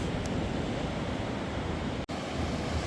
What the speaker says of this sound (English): The waves form out in the water and they crash on the beach.